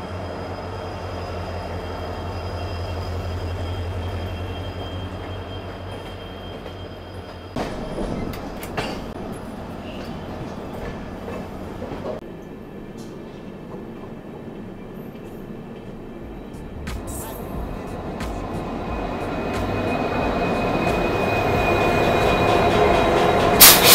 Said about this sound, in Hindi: तो सोचा इस गुड ट्रेन के साथ ही थोड़ा पैरेलल ओवरटेक रिकॉर्ड कर लूँ मन की शांति के लिए